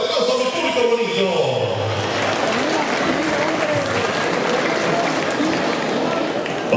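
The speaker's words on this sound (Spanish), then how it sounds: "Fuerte el aplauso a mi público bonito." An outdoor crowd at a ranch event in Tecario, Michoacán, in 2012 breaks into loud, sustained applause. It begins under an announcer's voice and then continues as a dense wash of clapping.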